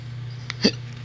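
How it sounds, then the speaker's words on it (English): A baby hiccups once, a single short, close hiccup over a quiet steady hum, with a faint click just before. "Got them awful hiccups."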